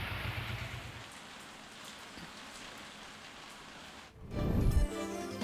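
Heavy rain pours down in Gujarat as a steady, dense hiss of drops. A louder, rougher burst arrives near the end.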